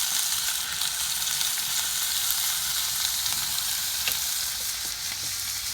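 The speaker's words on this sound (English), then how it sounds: "Sauteing good and hot," Food sautéing in a hot pan on a Pit Boss ceramic grill, a loud steady sizzle with light crackles and an occasional stir, heard up close with nobody speaking.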